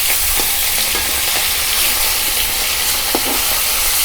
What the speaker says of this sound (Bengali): প্রত্যেকটা মাছ এপিট ওপিট ভালো করে ভাজা করে নেব।